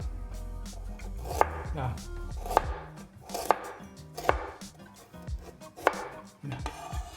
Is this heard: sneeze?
no